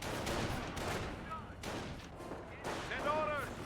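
Rifle and machine-gun fire from World War II infantry in Company of Heroes, Panzer Grenadiers against US riflemen at long range, rattling in steady overlapping bursts with a few whistling ricochet-like tones near the end.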